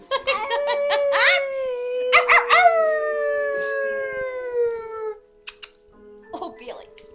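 A dog howls in one long drawn-out wavering note that slides slowly downward, with a few short yelps at the start and scattered quieter sounds after it stops.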